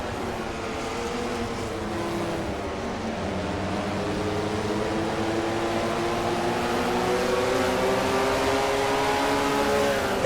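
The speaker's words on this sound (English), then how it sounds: "And just listen to the sound of that V6 Buick." A Buick V6 race car engine at a stock car race drones loudly and continuously, its pitch rising and sweeping steadily as it accelerates along the track, with no voices.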